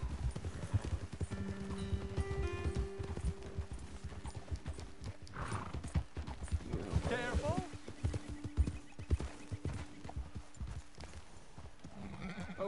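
Horses walk at a steady pace in Red Dead Redemption II, their hooves clip-clopping close by in an uneven rhythm, with a brief whinny and faint voices in the background.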